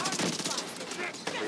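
Rapid gunfire in The Division 2, a dense fusillade of close shots with overlapping cracks, with a voice speaking over part of it.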